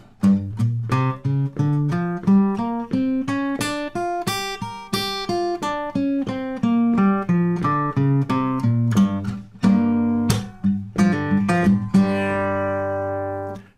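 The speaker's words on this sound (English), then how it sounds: "For demonstration I'm going to take the G blues scale, and when I play it up and down it sounds like this." An electric guitar plays a G blues scale in single notes, climbing steadily up and back down again, evenly paced, ending on a ringing note.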